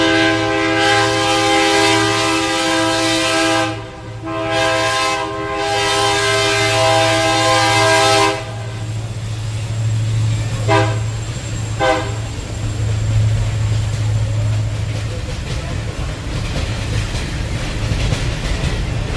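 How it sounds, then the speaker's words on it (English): A train horn sounds beside a baseball ballpark in long, loud sustained blasts with brief breaks, then two short toots, over the continuous rumble of the passing train. "Train's going right by the ballpark."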